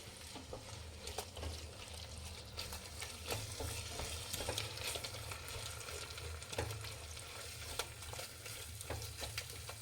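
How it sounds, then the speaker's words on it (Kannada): Eggs for egg rice frying in a pan with steady sizzling and crackle, punctuated by scraping stir strokes throughout, close and continuous with no talk. "ನಾಲ್ಕು ಮೊಟ್ಟೆ ಹಾಕೋಣ ಇದು ಚೆನ್ನಾಗಿ ಉರಿಬೇಕು"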